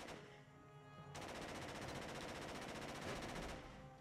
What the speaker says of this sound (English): Did he just start shooting faster?